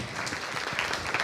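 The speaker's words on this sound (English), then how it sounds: "Can we give her another round of applause?" Summit audience applauding for a woman presenter at a tech women's event, steady dense clapping throughout the short burst, moderately loud and without talk.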